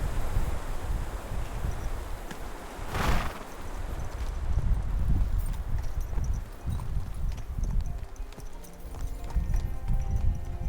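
Steady clip-clop of horse hooves at a walking pace in the video game Kingdom Come: Deliverance II, fairly close, with a brief rustling burst early on and light wind noise in the background.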